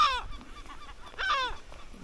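Birds on Flat Holm island give two loud harsh honking calls about a second apart, fairly close, with quieter squawks between them.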